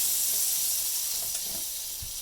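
A heated breakfast cooking appliance, oiled or buttered, gives off a steady, broad steam hiss that runs unbroken and fairly close, with faint low knocks beneath it.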